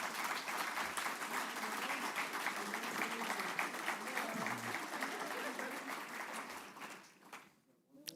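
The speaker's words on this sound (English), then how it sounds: "Let's give them a round of applause." Applause from an audience at a college awards ceremony, a dense, steady clapping that runs loud for about seven seconds and then fades out quickly toward the end.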